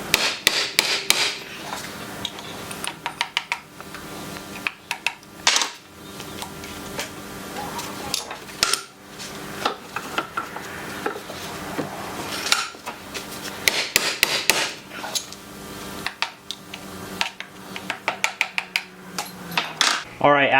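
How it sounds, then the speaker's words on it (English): Hammer taps on the U-joint caps of a front 4x4 axle shaft, close and metallic, with rapid sharp clinks and knocks in uneven clusters running throughout, no talking. "we'll repeat the process that we did on the inner shaft of tapping the inside of the caps"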